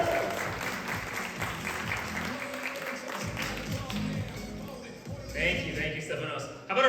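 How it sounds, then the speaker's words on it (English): A conference audience at a talk in Bansko claps in sustained, dense applause, with a person speaking over the clapping near the end. "How about a round of applause again, everyone, for Yazid?"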